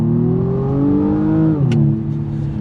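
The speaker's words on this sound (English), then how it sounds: "The noise for a 2-litre 4-cylinder engine isn't bad." A 2019 BMW M135i's 2-litre four-cylinder engine revs up steadily, its droning tone climbing in pitch before dipping briefly and settling back, loud and close.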